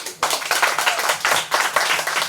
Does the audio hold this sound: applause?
yes